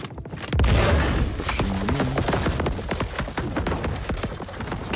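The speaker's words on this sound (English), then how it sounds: "More grenades coming." Grenades blast in the Star Citizen video game: a heavy boom hits early, followed by a rapid run of sharp cracks and thuds of combat that continue to the end.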